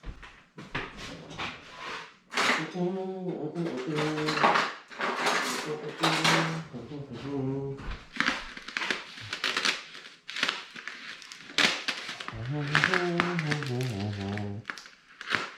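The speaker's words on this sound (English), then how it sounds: "So you do have to cut this open and get your giblets out, which I'm gonna do right now." Cutting open a raw turkey to pull out the giblets: busy handling noises, clattering pan and utensil knocks, and wet rustles in a kitchen, with a voice speaking in between.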